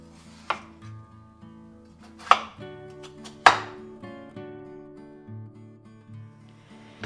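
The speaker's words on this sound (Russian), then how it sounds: "Картошку нарезаю кубиками." Knife chopping potatoes into cubes on a cutting board, a few loud sharp thuds spaced apart over a quiet, faint background hum.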